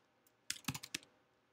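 A short burst of about half a dozen keystrokes on a computer keyboard as a spreadsheet formula is typed, close and crisp, with quiet room tone around it.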